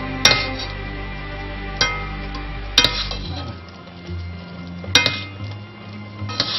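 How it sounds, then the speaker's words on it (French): A honey-glazed citrus pork hock being basted in a pan: loud metallic clinks of a spoon against the pan at irregular intervals, with softer scraping between them and no talk. "Et je commence déjà à l'arroser un petit peu."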